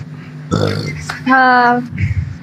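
A person lets out a loud, close burp, a short voiced belch with a rough tonal drone, in the middle of an indoor conversation among speakers.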